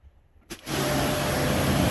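A Kranzle pressure washer starts up and rinses a box with a steady, loud, close hiss of spraying water. The spray holds constant for the rest of the time and no one speaks.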